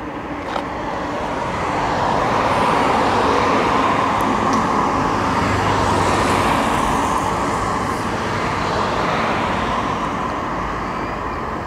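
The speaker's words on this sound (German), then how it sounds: "wie man schwer vom Verkehr hören kann" Road traffic runs along a newly surfaced detour route near Denkendorf, a continuous loud roar of cars and heavier vehicles passing close by and blending into one steady wash of tyre and engine noise.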